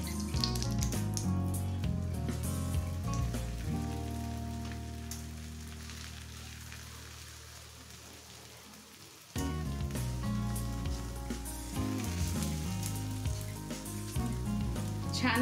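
Beetroot paratha fries in ghee on a hot pan, giving a soft, continuous crackling sizzle beneath louder background music.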